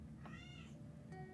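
A cat meows indoors, a short rising-and-falling call followed by a second, fainter meow, heard over a steady low background hum.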